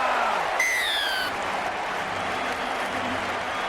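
Welsh rugby supporters in the stadium crowd at a World Cup match against Fiji in Nantes roar after a Shane Williams try, a broad steady wash of cheering with a brief whistle early on.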